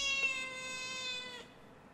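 A cat meows once in the video game Yume Nikki, a clear, tonal, drawn-out mew that slides slightly and fades, heard alone against a quiet background.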